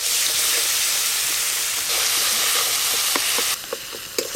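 A spice paste of ground ginger, cumin and dried chilli sizzling in a hot pan for a curry of fish and elephant foot yam, a continuous loud frying hiss with a few sharp crackles and spatters toward the end.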